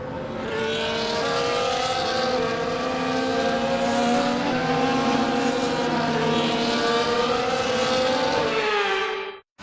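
Formula One cars in the F1 24 game circle the Singapore street circuit on a formation lap, a loud, steady layered engine whine with rising and falling pitch, continuous for nearly ten seconds before cutting off.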